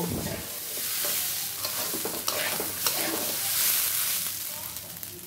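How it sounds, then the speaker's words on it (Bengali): Rice fries in a pan with a continuous loud sizzle and dense hiss, stirred with scraping strokes that rise and fall over the steady frying noise. "চালটাকে আমি 2 মিনিটের মতো ভেজে নিব।"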